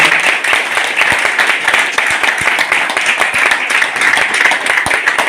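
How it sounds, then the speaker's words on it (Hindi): An audience at a celebration event in Bhiwandi claps loudly and continuously. Dense, close applause fills the whole stretch with no speech over it. "ऐसे सत्री जी के लिए मैं जोरदार तालियां करता हूँ।"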